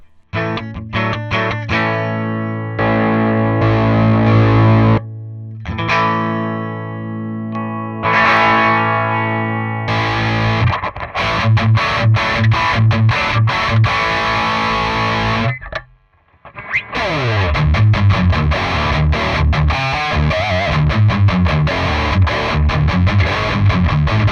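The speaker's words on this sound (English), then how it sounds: "check how it performs as a drive pedal" Electric guitar through an AMT Vt2 preamp pedal, overdriven with a thick, crunchy tone, plays chords and single-note riffs, pausing briefly between phrases, loud and close with no talking.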